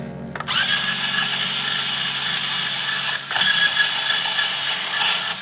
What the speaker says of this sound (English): Got my Ernie Ball Power Peg Pro string winder here.